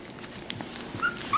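Four-week-old Australian Labradoodle puppies give faint, high thin whimpers and yips, brief squeaky cries over low indoor background noise.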